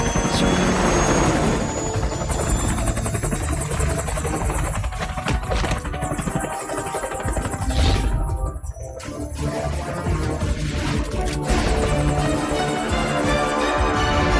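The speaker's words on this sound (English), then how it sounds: "Straight up helicopter." A helicopter in the PSP game Metal Gear Solid: Peace Walker roars loud and steady throughout, with a continuous rotor drone and engine whine that dips briefly midway before surging back, no talking over it.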